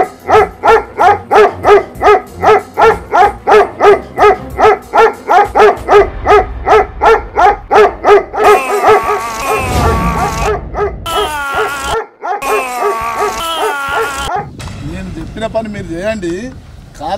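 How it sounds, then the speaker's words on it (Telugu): A dog barks repeatedly in a rapid, regular series of loud nearby barks, then yips and whimpers as voices speak over it in a village scene. "అరే కుక్కకు దొరకకుండా చూసుకోరా"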